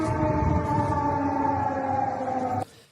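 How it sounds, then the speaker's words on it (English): Air raid sirens wail over a Polish city near the Ukrainian border, a steady sustained droning tone held loud and then abruptly cut off near the end. "Air sirens are in operation."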